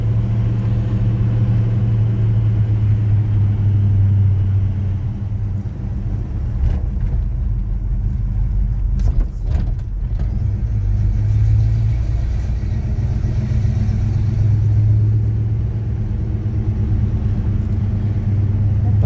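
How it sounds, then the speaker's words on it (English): A Chevy C10 pickup truck cruises along a road with a continuous low engine rumble and road noise, steady and close from inside the cab. "I'm just driving around for just a minute, guys."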